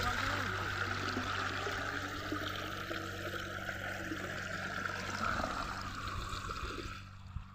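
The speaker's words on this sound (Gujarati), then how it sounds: "તો મિત્રો પાણી આવેલું છે થોડું આવેલું છે મશીનના ટોટાનું." Water pouring from a farm water pump pipe into a tank on a village farm, a continuous trickling and splashing stream heard up close, fading out at the end.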